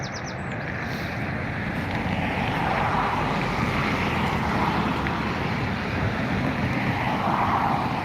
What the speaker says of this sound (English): here we have the Lufthansa City beginning its taxi